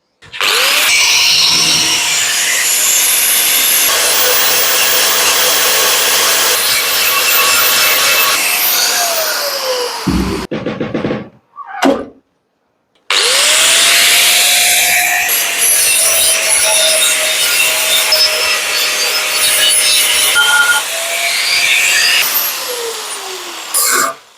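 An angle grinder screams against metal at close range on a Vespa scooter being restored, spinning up, grinding steadily, winding down, then cutting back in for a second long pass.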